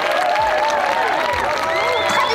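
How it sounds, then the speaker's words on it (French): An audience at a French gathering on peasant seeds applauds in a steady, dense wash while whistle-like tones and voices rise over the top. "un très grand applaudissement pour le CCFD Terre Solidaire"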